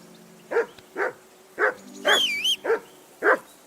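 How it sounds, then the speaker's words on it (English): A dog barks in Kingdom Come: Deliverance II, with six or seven loud, close barks spaced about half a second apart and a brief whining yelp in the middle. "Whistle at that mutt of yours to stop barking!"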